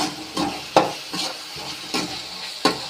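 Sliced onions fry in hot oil with a pinch of salt for a potato kurma, with a soft sizzle under about seven rhythmic spatula scrapes and stirring strokes, close and without talk.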